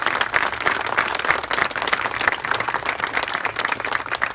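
A crowd at a park ribbon-cutting applauds the park committee members with steady, dense clapping, moderately loud and unbroken for several seconds.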